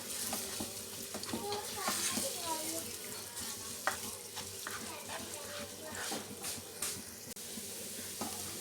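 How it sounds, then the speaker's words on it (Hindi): Makhandi halwa roasting on low heat in a non-stick pan, giving a steady soft sizzle with scraping stirs and occasional faint voices in the background. "अब इसको मैं हल्की आंच पे भूनूंगी"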